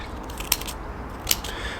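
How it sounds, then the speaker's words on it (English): Scissors chop shapes into folded paper for a mandala craft, two crisp, close snips about a second apart over a quiet, slightly noisy room. "Just hack them into the paper. You can chop any bit of it."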